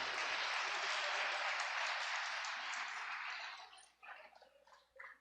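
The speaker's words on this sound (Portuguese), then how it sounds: "Vamos aplaudir o Espírito Santo." A church congregation applauds in a broad, dense burst of clapping that holds steady for several seconds, then thins out and fades to scattered claps.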